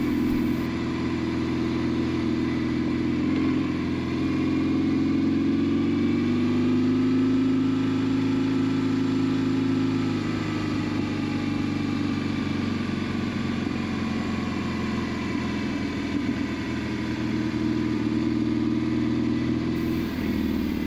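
A motorcycle rides along a park road at Schermerhorn Park in Joplin, Missouri, its engine a continuous mid-pitched drone that rises and dips in pitch over about twenty seconds, with no talking.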